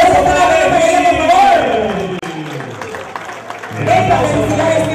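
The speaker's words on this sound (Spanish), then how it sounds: "¡El aplauso para Leyva, por favor!" An audience at the Miss Tambo Elegancia beauty pageant breaks into loud applause and whooping cheers for a contestant, with voices shouting over the crowd noise, dipping briefly midway before swelling again.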